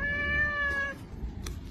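A cat gives one clear, drawn-out meow close by, followed by a short faint rustle and a tiny click in otherwise quiet surroundings.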